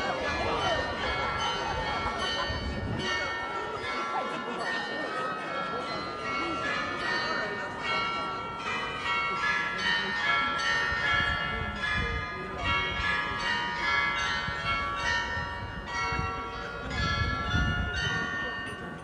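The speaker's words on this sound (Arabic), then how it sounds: "هو كل راس ساعة يدق الجرس" A bell tolls on the hour in a crowded public place; its ringing tones linger over steady crowd murmur and voices throughout.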